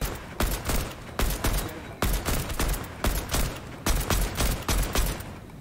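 Rapid bursts of gunfire from Fortnite, the video game, fire in quick repeated volleys, loud and close, with short pauses between the strings of shots.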